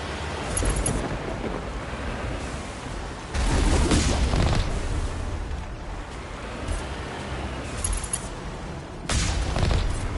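Distant artillery fire in the video game Mass Effect, heavy rumbling booms and blasts over a constant windy battle roar, with louder thuds recurring every few seconds.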